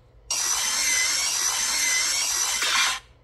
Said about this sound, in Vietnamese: Đây các bác xem cắt tôn múi này, rất ok luôn.